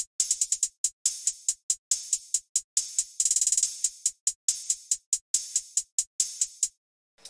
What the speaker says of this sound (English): Layered with this open hi-hat.